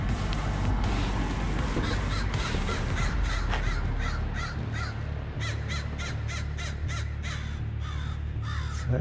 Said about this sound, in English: There's all the crows.